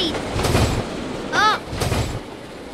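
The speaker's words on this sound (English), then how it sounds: "The train is going slower." A Polar Express train runs along the tracks with a steady mechanical rumble, and a brief squealing wheel tone rises in the middle before the roll continues.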